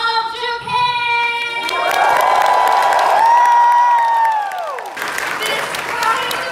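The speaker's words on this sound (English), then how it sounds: "This crowd is amazing!" A convention crowd at the first RGG Studio panel at Anime Expo cheers and whoops loudly, with clapping and rising shrieks swelling in the middle, then the noise settling slightly.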